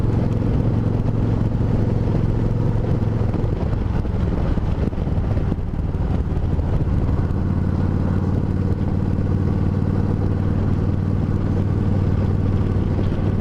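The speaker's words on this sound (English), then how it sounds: "this transmission has straight cut gears, so they do whine a bit and they're a bit clunky" A Suzuki Marauder VZ800 motorcycle with straight cut gears runs close by with a steady engine drone and a low whine, alongside a constant mechanical whir and clatter and no talk.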